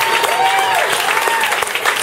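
A comedy club audience applauds warmly, a dense continuous clatter of clapping close by with a few scattered voices in the crowd.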